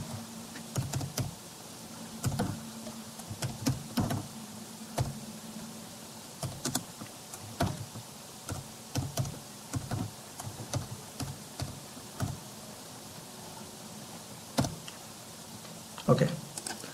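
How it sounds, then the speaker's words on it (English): Slow, irregular keystrokes tap on a computer keyboard, close and fairly quiet, with scattered clicks and short pauses between bursts of typing. "I'm sorry for my slow typing."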